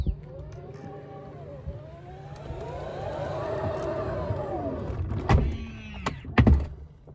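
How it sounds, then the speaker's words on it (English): Rear falcon-wing door of a Tesla Model X powering shut from inside the cabin, a long motor whine with rising and falling tones ending in a couple of solid thunks as it latches, close and fairly quiet. "We just close the door."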